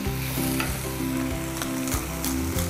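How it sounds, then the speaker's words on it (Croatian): Butter sizzles and fries in a pan with flour and ground red paprika for a leek stew, giving a constant crackling hiss with a few stirring scrapes and a droning tone underneath. "Sada dodamo i maslac."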